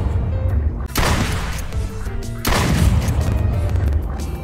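Gunshots in the video game Duck Season boom out loudly, two heavy blasts with long rumbling tails, one near the start and one midway.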